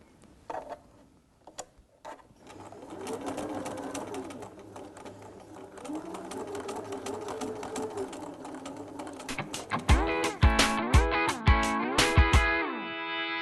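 Sewing machine stitching quarter-circle curves for a quilt block, with short runs of whirring and pauses at first, then a louder, faster steady stitching burst near the end.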